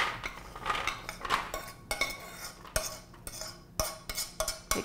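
Pecans are tipped into a pan with a series of close, sharp clattering knocks and scrapes of nuts and utensil against the metal.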